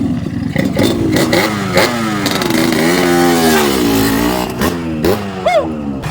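An old, worn motorcycle engine revs up and down repeatedly close by, its pitch rising and falling in uneven surges with some mechanical clatter.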